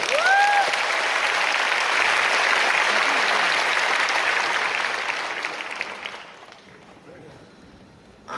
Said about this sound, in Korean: 또 큰 박수 한번 치겠습니다.